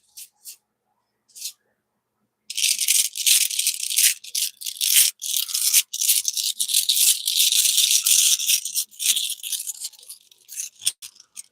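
Small hard rune stones rattling and clicking together in a shaken bag, a steady busy clatter after a few isolated taps, close and fairly loud.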